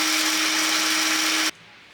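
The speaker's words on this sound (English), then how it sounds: "Pop that in your blender and blend it until you get rice flour." A blender whirs at full speed grinding rice into flour, a loud dense roar with a steady pitched hum that cuts off abruptly after about a second and a half, leaving quiet room noise.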